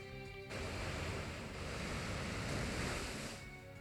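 A rain-boosted Surf attack from the video game Pokemon X plays as one loud, broad rushing wave whoosh lasting about three seconds, with no talking.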